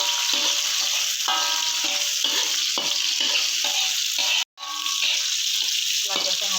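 A sardine stir-fry with chili and tomato sizzles steadily in a hot pan, with a constant crackling hiss broken by repeated spatula scrapes and stirring clatters and one brief dropout.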